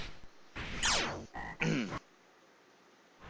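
Toad enemies croak in the 1992 Konami game Bucky O'Hare: chiptune-like descending warbling croaks in two or three quick bursts, separated by short silences.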